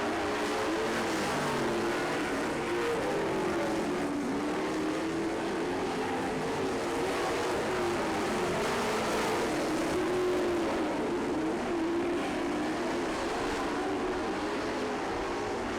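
Race cars roar around a dirt racetrack during a Legends event, a dense, steady wall of engine drone with rising and falling whine as the pack circles, loud and continuous with no voices.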